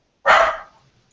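A single sharp dog bark, close and loud, cutting off quickly into quiet.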